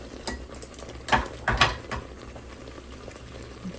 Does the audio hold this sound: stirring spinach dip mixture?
yes